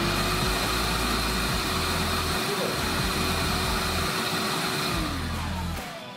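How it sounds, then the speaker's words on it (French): A Kärcher HV 1/1 BP cordless handheld vacuum cleaner runs with a steady, loud whine and broadband hiss, shifting slightly in pitch before winding down at the end, while someone speaks briefly over it. "Hop, je lance l'aspirateur."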